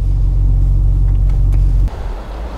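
A 2010–2011 HSV E-Series 3 Maloo R8 with a manual gearbox and an intake system gives a deep, loud engine rumble up close that drops off suddenly near the end.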